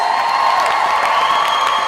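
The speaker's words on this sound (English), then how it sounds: "Can we have the biggest round of applause?" A London crowd cheers and applauds for Arrow star Stephen Amell at a live panel: loud, continuous clapping mixed with whoops and shouting that holds steady throughout.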